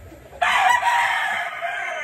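A rooster lets out one loud, close crow that starts abruptly and holds for well over a second against quiet surroundings.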